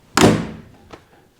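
Door of a 1923 Packard Six Sedan closing with one solid, loud thunk that rings briefly, followed by a faint secondary click of the latch.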